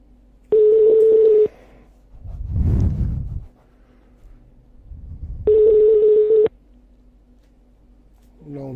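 Phone call being placed: two long steady ring-back tones roughly five seconds apart, clear and even, with low muffled rumbles and handling noise between them.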